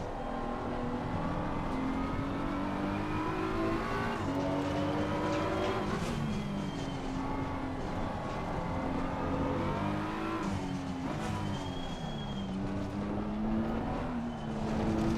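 Race car engine in the video game Assetto Corsa Competizione, faint but steady, rising and falling through gear changes as the car brakes and accelerates around a track, with no voices.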